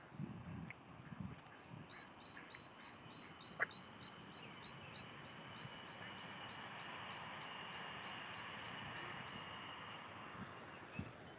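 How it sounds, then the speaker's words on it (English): A train runs near the Leeds canal, a faint distant rumble carrying a repeating rhythmic clatter of wheels over the rails, with outdoor ambience and a couple of brief knocks. "There's a train."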